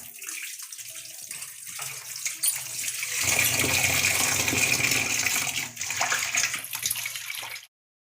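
Kitchen tap water runs while fish is rinsed, a soft trickle that swells into a steady louder gush with splashing, then cuts off abruptly near the end.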